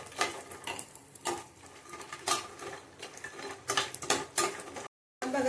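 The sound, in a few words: almonds roasting in ghee in a pan, stirred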